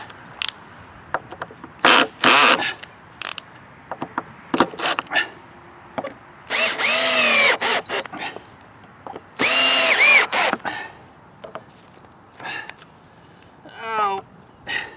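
A cordless power drill drives screws into boards clamped on a DIY hoop house greenhouse frame, giving several loud close whirring bursts of varying length, some with rising pitch, separated by short pauses and clicks.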